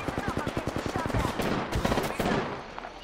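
Rapid bursts of gunfire in Apex Legends, a fast rhythmic string of sharp shots followed by a denser crackling volley, with a voice briefly heard under the action.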